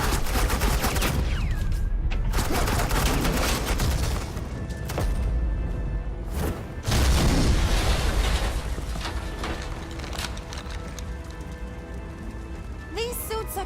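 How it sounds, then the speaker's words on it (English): Sustained volley of suppressing gunfire in a Batman video game with Agent Quinn, dense rapid automatic shots rattling on for over ten seconds, loud and close, with brief gaps and shifts in intensity. "suppressing fire."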